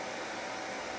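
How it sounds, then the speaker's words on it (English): Hair dryer blowing on natural hair, a loud continuous whooshing hum filling the whole second without a break. "I don't know if I'm going to blow dry it all the way through"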